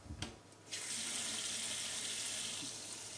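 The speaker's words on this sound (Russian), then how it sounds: "небольшой струйкой наливаем под самый верх, чтобы меньше было пузырьков воздуха" Clean water from a tap pours in a thin, steady stream into a jar while preparing barrel-style salted cucumbers, a brief splash giving way to a continuous close hiss of running water.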